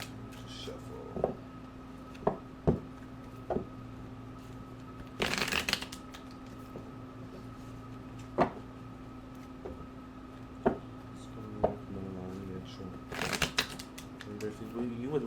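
Tarot cards are shuffled by hand in repeated quick riffling bursts, crisp and close, with soft tapping and card handling between them in a quiet room.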